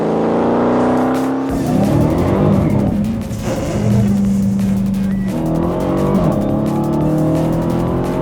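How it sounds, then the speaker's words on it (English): A Dodge Hellcat driven hard roars loudly under acceleration, its engine note climbing and dropping through gear changes, with a brief squeal of tires, all close and dominant with no talk. "With Ben strapped into the Hellcat, I took him out for a proper blast"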